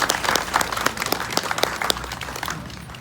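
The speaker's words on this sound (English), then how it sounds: "Y'all give them a round of applause for bringing us here." A gathered crowd applauds at a public event hosted with the county commissioners and city council, dense clapping that is loud and continuous from start to finish with no speech over it.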